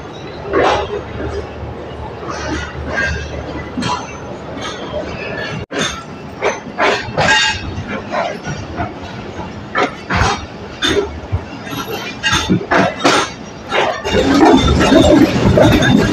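Pakistan Railways train 102 Dn Subak Raftar gathering speed out of Rawalpindi toward Chaklala, heard from on board with rumbling wheels and rhythmic clanks and clunks, a sharp jolt partway, and people talking nearby throughout.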